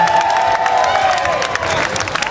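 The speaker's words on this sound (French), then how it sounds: "J'en ai pas entendu suffisamment d'applaudissements, mesdames et messieurs" A crowd applauding and cheering at a live stage show, dense clapping layered with shouts and a sustained voice-like tone, loud and close throughout the short burst.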